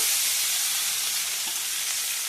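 Chopped onions and green chillies sizzle in hot oil in a pan for a fish curry, a steady bright crackling hiss close up with no talking.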